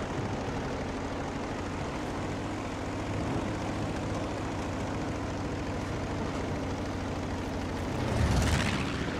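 A propeller airplane engine in a video game drones steadily and loudly, a continuous rumbling roar that swells near the end as if passing close.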